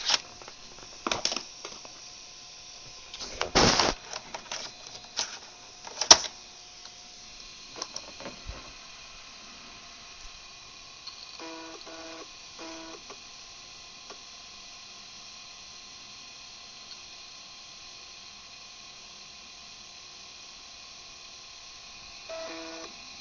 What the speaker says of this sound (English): That was certainly an interesting noise. My disc going bad or something?